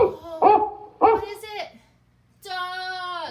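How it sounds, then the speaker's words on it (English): A dog barks three times in quick, close succession, then gives a longer, drawn-out whining howl after a short pause. "Can you make the dog sound?"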